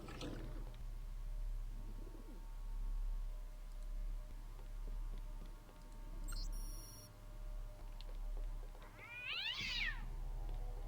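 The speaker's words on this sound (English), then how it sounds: "Did I just kill a cat?" A cat in the video game Deus Ex: Revision meows twice, a short mew early on and a louder rising, wavering meow near the end, heard over a steady low game hum with no talking.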